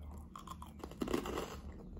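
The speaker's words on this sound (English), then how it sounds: "the crunch, the softness of the cheese, the crunch of the croutons" Someone eating a crunchy salad with cheese and croutons, with soft chewing and a brief burst of close crunching in the middle over faint room noise.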